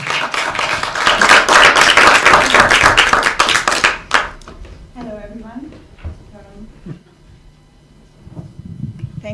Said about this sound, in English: please give a round of applause for the amazing Kati Orban